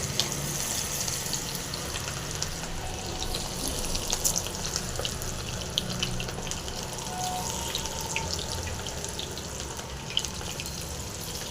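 Cauliflower 65 pieces frying in hot oil, a steady, soft bubbling sizzle that continues evenly throughout.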